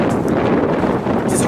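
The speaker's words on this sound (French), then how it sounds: "Désolé pour le vent." Wind buffeting a microphone outdoors in the village of Fontaine-aux-Bois, a loud, steady rumbling roar that fills the whole short stretch with no voices.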